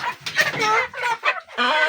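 Chickens clucking busily close by on a farm, a dense flurry of overlapping squawks and clucks with brief pauses between bursts.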